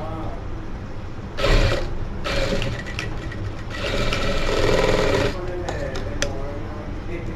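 A sewing machine stitches a jacket kurti in several bursts of fast, rhythmic whirring, louder when the needle runs and quieter between, while someone talks over it.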